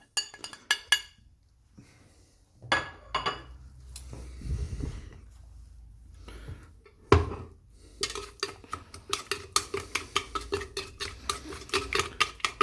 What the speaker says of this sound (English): It's going to take a few minutes to mix in everything up.